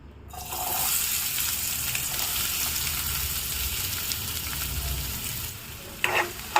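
Sliced onions and green chillies frying in a pan for a jackfruit seed masala curry, a dense continuous sizzle close up with a few spoon clatters near the end and no speech.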